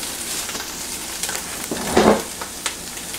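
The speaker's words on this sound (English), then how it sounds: "I'm frying the onions" Onions fry in oil in a pan, sizzling and crackling steadily, with a louder burst of sizzling midway and a few sharp pops.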